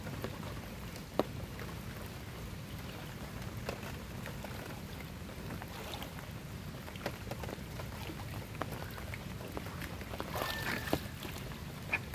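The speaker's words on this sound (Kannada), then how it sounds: "ಬೋಟ್ನಲ್ಲಿ ಹೋಗ್ತಾ ಇದ್ದೀವಿ." A boat moves through floodwater near a farm, giving a faint, steady low rumble with scattered light splashes and ticks over about twelve seconds.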